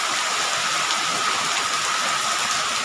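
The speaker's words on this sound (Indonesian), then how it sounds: "alhamdulillah di sini sudah hujan ya. Nah, sudah hujan." Rain falling steadily, a dense even hiss of drops on surfaces with no pauses, filling the whole stretch without voices.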